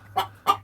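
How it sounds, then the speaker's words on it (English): Two short, close clucks from a chicken in quick succession over a faint low hum. "So the chickens start to yell."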